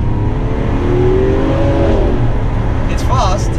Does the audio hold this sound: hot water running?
no